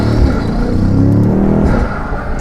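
A BMW X6M fitted with Eventuri intakes revs and drones loudly from inside the cabin, a deep continuous engine rumble with a brief easing near the end.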